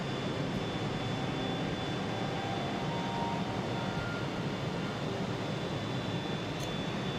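Aircraft engines in the IL-2 Korea campaign roar steadily at takeoff, a loud, even drone with a faint high whine held throughout.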